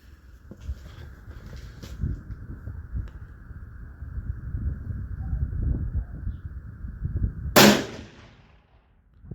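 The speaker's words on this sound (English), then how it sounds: "here we are out at the range, and we're doing a little test firing" A single sharp, loud rifle shot rings out near the end, firing a 257 Roberts load made from converted 30-06 cases at an outdoor range, after a stretch of low rumbling background noise and a steady hum.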